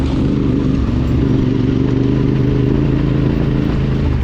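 A motorcycle engine drones steadily close by, a continuous rough rumble with rattling clatter as it rides along the Logandale Trail in Nevada.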